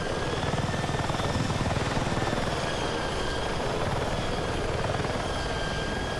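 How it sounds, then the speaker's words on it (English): Continuous rapid thumping of helicopter rotors with a steady engine whine in the video game Battlefield 6, loud and close, holding constant without any speech. "This is like the multiplayer chopper."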